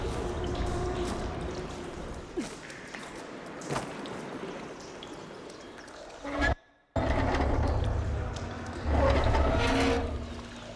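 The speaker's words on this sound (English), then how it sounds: "Aloy, I can hear water in the room again." Water rushing and pouring steadily in a room in the video game Horizon Forbidden West, a continuous close wash of sound that cuts out briefly, then returns stronger.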